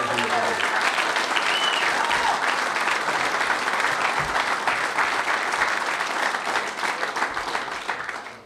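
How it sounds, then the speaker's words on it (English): An audience at a golf club retirement roast applauds, a sustained wash of many hands clapping at a steady level before tapering off at the end, with a voice faintly heard early. "I give him a round of applause for what he did"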